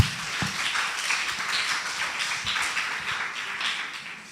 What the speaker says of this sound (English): Everyone clap for her, please.